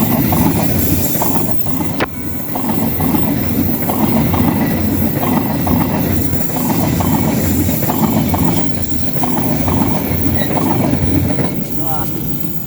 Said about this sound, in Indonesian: kita sambut dulu kedatangan kereta nih